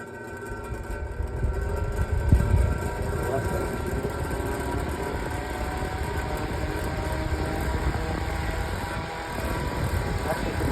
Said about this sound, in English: It's actually the loudest antique fan I own, pretty much.